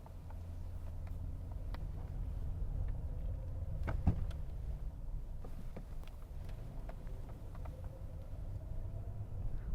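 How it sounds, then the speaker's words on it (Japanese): A Toyota Century's V12 engine idles smoothly at about 500 rpm, heard from inside the cabin as a faint, steady low hum with occasional small clicks. "奥の方でですね、低い声でこううなっているような感じで V12 が回っています"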